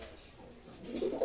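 A pair of domestic pigeons, a cock and a hen bred from Giachulli and Chila pigeon parents, gives soft, faint low coos that swell near the end of a short, quiet stretch.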